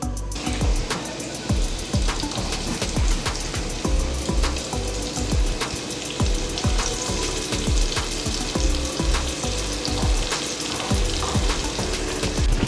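Batch of lemon pepper chicken wings crackling in a pot of hot oil, a loud, steady sizzle dense with rapid pops and spatters running throughout, no one speaking.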